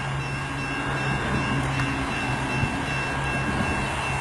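A CN northbound freight train rolls through Richmond, Michigan, a steady broadband rumble with low tonal hum and faint rail clatter, sustained at even loudness as it approaches.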